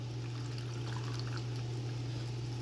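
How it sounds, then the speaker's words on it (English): Water trickles and splashes steadily as it is poured into the top of a homemade sand filter, continuous and fairly quiet over a low steady hum, with no talk. "So we're just gonna pour our water down at the top."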